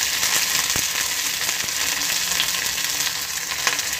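Curry leaves and green chillies crackle in hot oil with popped mustard seeds for a banana stem kootu, a loud dense continuous sizzle with a few faint clicks, close up and without voices.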